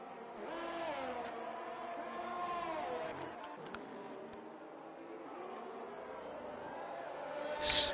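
Race cars in the F1 2023 video game at Portugal's circuit, one car overtaking down the outside of a Red Bull; a steady, continuous engine drone with shifting pitch fills the scene, swelling briefly near the end.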